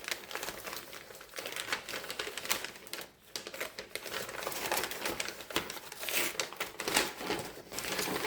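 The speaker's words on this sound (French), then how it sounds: "je vais pas y arriver sans le déchirer" Paper packaging being torn open during a book unboxing, loud crinkling and ripping in bursts with a brief pause midway, close to the microphone.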